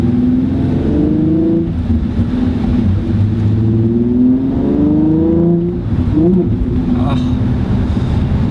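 A manual-transmission car engine is revved and held at low RPM while a learner works the clutch, giving a steady mid-pitched drone with a few rises and a stumble near the end, heard from inside the car under people talking.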